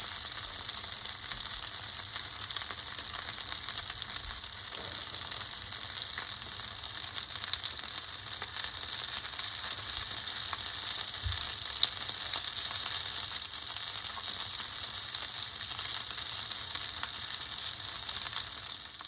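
Gyoza dumplings fry in a pan with a loud, continuous hissing sizzle that stays steady and close throughout, with no talking.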